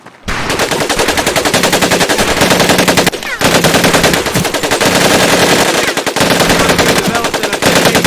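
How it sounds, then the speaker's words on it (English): Fully automatic weapons firing in a video game, loud sustained rapid bursts of rattling gunfire with a brief pause near three seconds, close and continuous. "These weapons are fully automatic."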